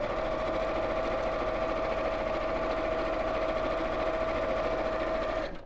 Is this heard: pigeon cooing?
no